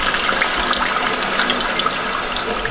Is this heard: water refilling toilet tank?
yes